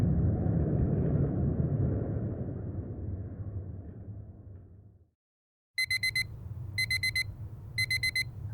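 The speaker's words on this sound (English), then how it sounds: "Mark wakes up to the sound of his alarm." An alarm clock rings with three short, sharp, evenly spaced bursts of electronic beeping over a low rumbling background, coming right after a sudden brief silence.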